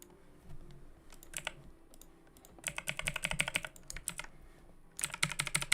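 Typing on a computer keyboard comes in quick clustered bursts of crisp key clicks, close and fairly loud, with short pauses between runs and no one talking.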